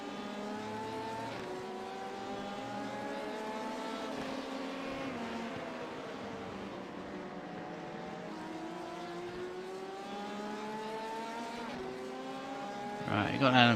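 Race cars in the iRacing game at Daytona circle steadily, with engine tones sweeping up and down as an LMP prototype closes and passes, rising to a louder burst at the end, with talk over the top.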